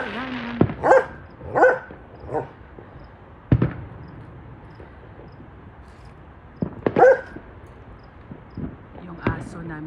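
During Fourth of July fireworks behind a house, a dog barks and whimpers in short scattered bursts, with sharp firework bangs and pops nearby and faint talk in the background.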